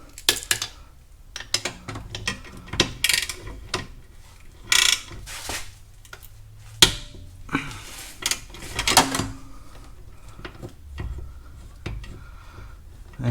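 Ratchet wrench fitted with a swivel working on the starter bolts of a 2004–2005 Mercedes CLK320 W209 V6, giving bursts of sharp metallic clicking and clacking with pauses, close and fairly loud.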